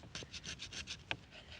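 A flint tool scrapes soft, wet wood in repeated short, rasping strokes, about eight quick passes in under two seconds. The scraping is close and faint, with no talk.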